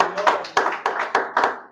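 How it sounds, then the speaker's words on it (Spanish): A church congregation claps in a slow, regular rhythm, about one sharp clap every quarter second, with voices and singing running underneath each beat. "Vamos a darle en esta noche un aplauso al Señor."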